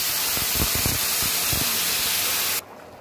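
Hot water pours into a pan of cooking egg curry, a steady loud hissing sizzle with bursts of bubbling that cuts off sharply near the end.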